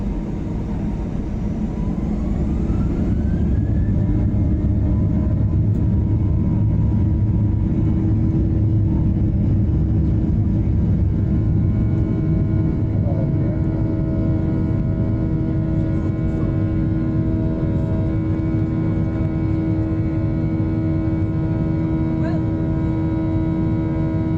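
Inside the cabin of a Ryanair plane taxiing on the ground, a loud steady engine drone and hum fill the space with a constant low rumble, with no talk over it.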